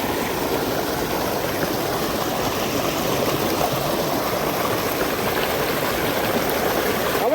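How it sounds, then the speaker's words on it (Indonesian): Mountain river on a climbing route up Gunung Patah via Pagar Alam, rushing water in a steady, full, close roar that stays constant throughout with no voices. "Jadi kita bakal lewat sungai lagi."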